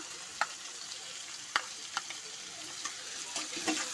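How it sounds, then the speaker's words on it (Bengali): Onions fry and sizzle in a pan for potol curry, a steady close hiss broken by a few sharp crackles and stirring clicks, with no talking. "পেঁয়াজটা লাল লাল ভাজা হয়ে এসছে"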